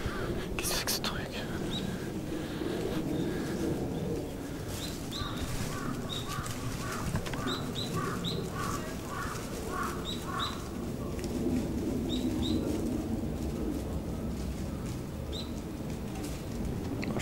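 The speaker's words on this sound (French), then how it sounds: "y a des pigeons qui se bastonnent" Pigeons coo and flutter nearby in a fight, with soft wing flaps and repeated cooing over outdoor ambience in Japan and some quiet talk.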